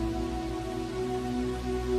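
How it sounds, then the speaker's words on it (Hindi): Steady rain falls as a continuous, dense patter in a narrated Hindi story about a hardworking boy, with a low sustained hum beneath, no voices during the stretch. "शाम होते होते बारिश कुछ कम हुई, पर पूरी तरह बंद नहीं हुई थी।"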